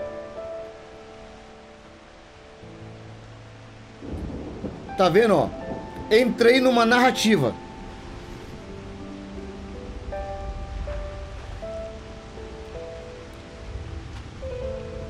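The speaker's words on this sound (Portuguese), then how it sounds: "Ah, uma cinematiczinha. Olha aí a chuva." Rain patters and thunder rumbles in the video game Moonlight Blade, a steady soft rain bed under spoken commentary and game music, with a bright sweeping cinematic burst partway through.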